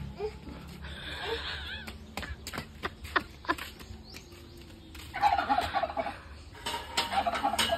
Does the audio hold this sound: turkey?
yes